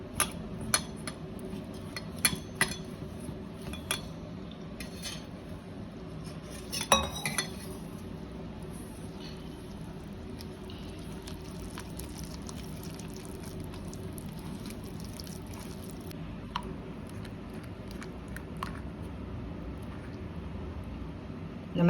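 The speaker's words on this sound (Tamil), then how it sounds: "இப்போ இதை கலந்து கரைச்சிருவோம்" Maida flour batter with turmeric and salt being mixed in a bowl, with scattered light clinks and taps of a spoon against the bowl over a quiet, steady background.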